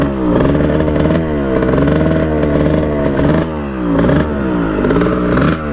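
A 1989 Kawasaki KX125 two-stroke dirt bike engine runs rough up close, its revs repeatedly surging and sagging in uneven waves with a clattering edge.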